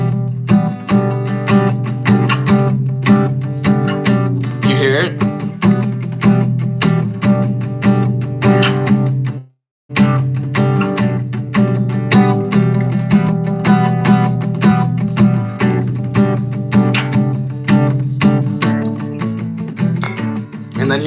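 A guitar is strummed through a chord progression, loud and continuous, with a brief cutoff near the middle before the strumming resumes; a voice briefly speaks over it.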